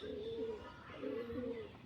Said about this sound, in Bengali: দারুণ একটা কবুতর